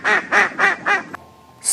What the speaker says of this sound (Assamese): ডাক ডাক মানে হাঁহ